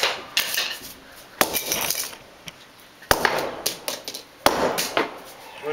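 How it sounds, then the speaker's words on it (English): A hammer strikes a Motorola phone repeatedly: several hard, sharp cracks spaced a second or more apart, close and loud, with clattering and rattling between the blows. "let's use the hammer now"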